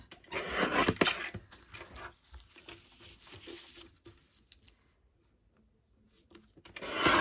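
Paper envelope being trimmed and handled for an upcycled card. Close rustling, rubbing and scraping strokes of paper come in uneven bursts, fade to near silence in the middle, then rise again loudly at the end, with no talking.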